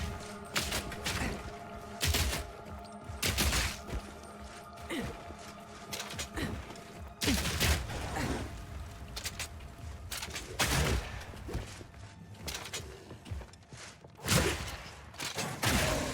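Repeated gunshot bursts in the action video game Warrior, loud and close, coming in sharp clustered volleys with thuds and mechanical clatter between them and little room for silence.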